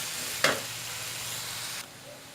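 Small cubes of potato fry in a pan with a soft, steady sizzle, opening with one brief sharp clatter and then thinning out partway through, quiet and close with no voices.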